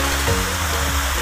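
A waterfall at Pongkar village in Tanjung Balai Karimun roars as a steady, dense rush of falling water, loud and continuous, with no voices.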